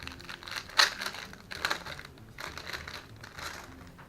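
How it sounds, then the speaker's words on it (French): StonePatch patch being unwrapped from its packaging: close, soft crinkling and crumpling of plastic with a few sharper rustles, fairly quiet and continuous, no talking. "Alors celui-là, je vais le déballer avant de le montrer."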